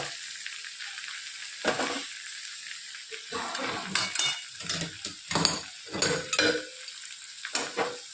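Okra frying in a pan with roasted spice masala and onion, a steady close sizzle broken by bursts of stirring, spatula scrapes and metal pan clinks, no voices.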